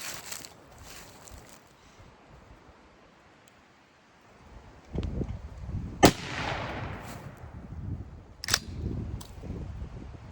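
A shotgun fires a Longbeard XR turkey load at a 40-yard target outdoors in brush. One loud, sharp blast near the middle is followed by a second sharp crack, with rustling and handling noise around them.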